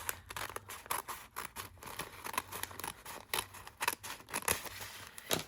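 Scissors snip repeatedly through a brown paper bag, a close, quiet series of irregular cuts and crisp paper rustles with no talking.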